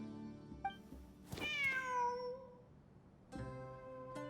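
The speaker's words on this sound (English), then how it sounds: "Wait, there it is! The cat!" Cat meowing in Genshin Impact, a short chirp followed by a long drawn-out meow and a brief third call, clear over a quiet game music bed.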